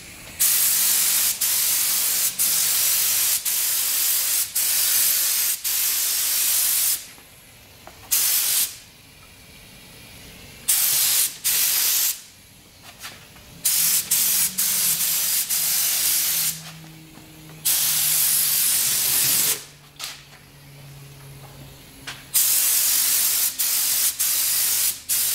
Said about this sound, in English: Now we can spray another coat